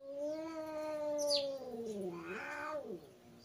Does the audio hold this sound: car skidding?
no